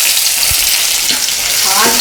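Onion frying in hot oil for a crab gravy makes a loud, continuous sizzle, with a few soft thumps from stirring.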